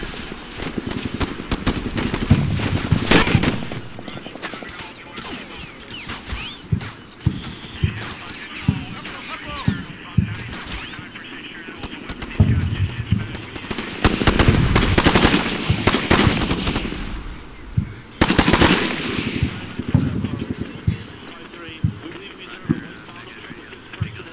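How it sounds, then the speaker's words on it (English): In the video game Combat Mission: Shock Force, Syrian infantry fire across a city at close to middle range. Repeated bursts of automatic gunfire and single shots crackle in loud clusters throughout. "Start taking fire from across the way."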